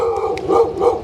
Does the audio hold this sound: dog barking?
yes